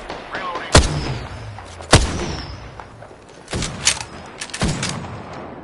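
Gunfire in the Apex Legends video game comes as sharp, loud shots: two isolated cracks, then a cluster of rapid shots and thumps, with a voice talking in between.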